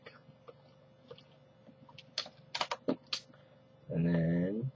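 A computer keyboard clacks as a script is typed, a scattered burst of close, sharp keystrokes, followed by a brief loud tonal sound at the end.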